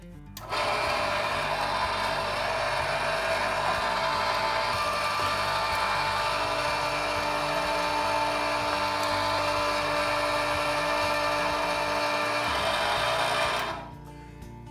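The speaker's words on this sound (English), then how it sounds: "the grinder is set and ready to go. We're gonna do the venison first." An electric meat grinder works through venison, its motor giving a loud, steady whine close by that runs continuously for several seconds before spinning down at the end.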